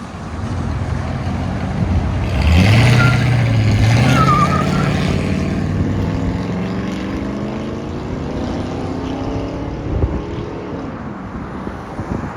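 A 1992-1996 Ford F-150 with a 5.0L V8 running true dual exhaust with high-flow cats and side-exit tips, a loud deep engine drone that swells and revs around the middle, then settles to a rumbling idle, with some wind buffeting.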